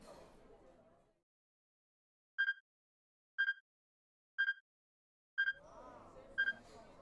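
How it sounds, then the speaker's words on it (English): Strange electronic beeps in the video game 428: Shibuya Scramble: five short, identical tones spaced about a second apart in near silence, the last one overlapping with narration. "He heard the strange beeping sound again, subtly different than the first time."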